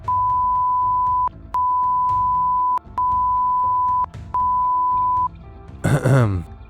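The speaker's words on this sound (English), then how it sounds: "Did anyone else hear beeping?" Four steady electronic beeps in a row, each about a second long with short gaps, followed by a brief burst of noisy, distorted sound, in the game Merciless Ultimate Sea Ice.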